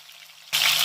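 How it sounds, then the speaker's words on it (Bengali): Loud oil sizzle bursts in abruptly midway as katla fish is dropped into hot oil, after a quieter hiss, continuing as a steady crackling fry. "এবারে এই তেলেই আমি মাছটা ভেজে নেব"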